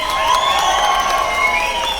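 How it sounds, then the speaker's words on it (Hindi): Crowd applause and cheering at a live crypto trading competition event, loud and sustained for the full two seconds with whoops and excited shouting over a dense clapping wash. "चलिए देवा जी के लिए आप लोग एक बार ताली बजाइए"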